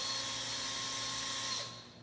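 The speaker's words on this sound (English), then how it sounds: "You hold on to the chuck while you pull the trigger slowly." A hand-held power drill runs in reverse with its chuck gripped, giving a steady close whirring motor whine for about a second and a half before winding down as the jaws open.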